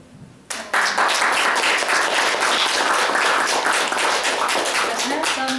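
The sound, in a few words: audience applause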